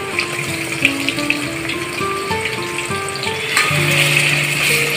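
Green chilli and coriander paste frying in oil with softened onion for masale bhat, a steady close sizzle with light stirring that swells louder near the end, no talking.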